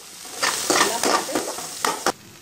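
Chickpea sundal with dried chillies, curry leaves and pepper powder being stirred in a frying pan, a close, steady sizzle broken by several scraping strokes of a spoon against the pan, with no voices.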